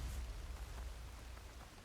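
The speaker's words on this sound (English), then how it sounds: "Can't hear much over the rain." Steady rainfall in the video game Horizon Forbidden West, a soft, even wash of rain noise with a low rumble underneath, faint and continuous with no voices.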